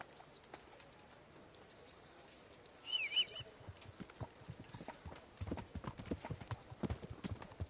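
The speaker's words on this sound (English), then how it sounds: "Nice horses." Horse hooves clip-clopping in a video game, a faint quiet stretch giving way to a brief louder whoosh and then a steady run of soft hoof beats that grow busier toward the end.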